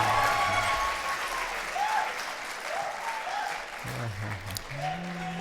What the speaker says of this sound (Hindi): जोरदार तालियों के साथ स्वागत।